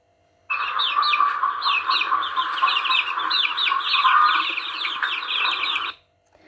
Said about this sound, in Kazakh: Балапан қандай дыбыс шығарады екен?